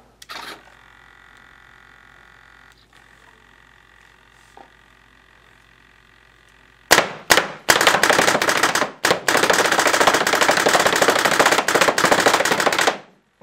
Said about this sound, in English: Gonna run some more reballs through this one now and see how it shoots.